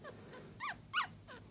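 Five-day-old newborn Yorkie-poo puppy giving a few faint, soft whimpering cries in a short fussy series, quiet and close, with no talking.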